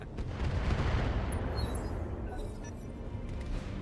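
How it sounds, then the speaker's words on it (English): Airstrike explosions rumble in the Roguetech video game, a dense, continuous low roar of blasts and booming impacts that stays loud and steady with no clear gaps. "Watch the skies. Airstrike."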